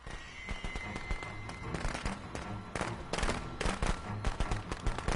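Rapid, dense crackling pops burst continuously like a string of firecrackers in the video game Friday the 13th, loud and close, over a faint steady background tone.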